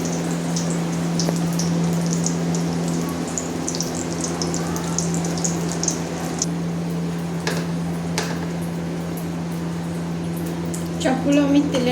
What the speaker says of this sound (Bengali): চপগুলো আমি তেলের মধ্যে দিয়ে একটা একটা করে ভেজে নিচ্ছি।